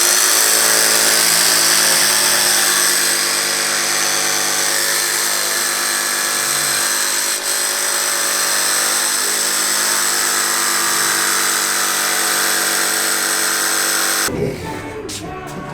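A power tool runs continuously at a steady high whine as it trims a polycarbonate Lexan windshield panel for a Kitfox Model 4 aircraft, with a brief shift in tone near the end as the cut finishes.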